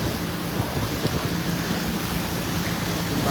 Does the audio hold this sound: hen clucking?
no